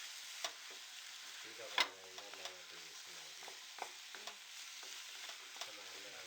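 Chili, coriander and turmeric powders sauté in a pan for a chicken roast, a quiet sizzle broken by scattered scrapes and clinks of a spoon stirring, one sharper knock near the start.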